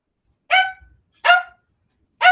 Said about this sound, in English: that should have stopped the little dog barking in the background